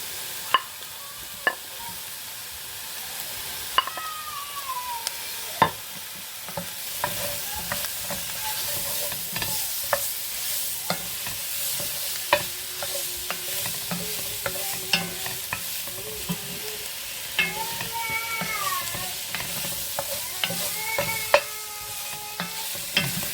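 Meat and sausages sizzle in a pot for potée auvergnate, a steady frying hiss broken by sharp scrapes and clinks from stirring, fairly close and loud, with no talking.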